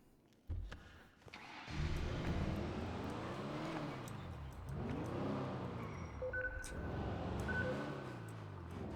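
An unmarked car in a video game drives and revs, engine pitch rising and falling in repeated sweeping waves, loud and close, with a few brief electronic tones on top.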